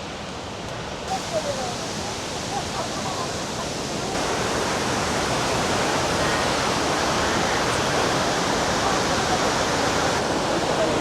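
Victoria Falls in Zimbabwe, a broad river plunging over the edge around a midstream island: a constant, loud, rushing roar of falling water that fills the clip, growing slightly stronger partway through, with faint talk beneath.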